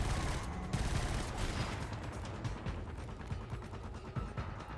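Gunfire in the video game Killzone: Shadow Fall: dense, continuous bursts of shots and mechanical clatter fill the whole stretch, loud and close without pause.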